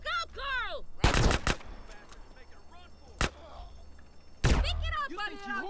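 Gunfire in Grand Theft Auto San Andreas during a story mission shootout: a dense burst of loud, sharp shots near the start, a lone shot midway, and another heavy burst near the end, separated by game ambience and sporadic voices.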